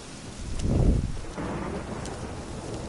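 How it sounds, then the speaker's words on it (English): A low rumble of thunder swells and fades over a steady wash of rain and wind, in the video game The Witcher 3: Wild Hunt. "I don't like it when it's raining."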